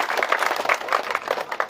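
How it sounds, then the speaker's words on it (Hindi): A crowd claps loudly and steadily to welcome a guest at a public gathering, with dense, even applause and no voices standing out. "जोरदार तालियों के साथ"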